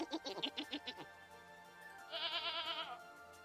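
A baby goat in the video game Vintage Story gives a single wavering, high-pitched bleat lasting under a second, following a brief patch of other busy sounds.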